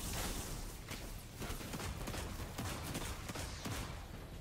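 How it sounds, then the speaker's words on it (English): Rapid, crackling weapon fire as a player shoots ant enemies in Destiny 2's Grasp of Avarice, a dense flurry of quick shots fairly quiet and steady throughout, with no talk. "As you see with me shooting the ants"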